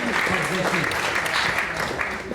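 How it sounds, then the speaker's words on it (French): Forum audience applauding a speaker in a hall, a short burst of dense clapping with voices talking over it. "Applaudissez-la"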